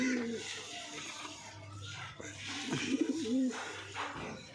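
Domestic pigeons coo in a loft, a couple of rounded, rolling calls rising near the middle over a steady low background hum.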